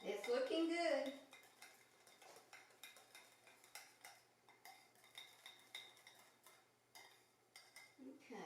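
Food stirred in a pan during home cooking with fresh produce: quiet, repeated scrapes and light clinks of a utensil against the pan in an even rhythm, after a brief louder clatter at the start.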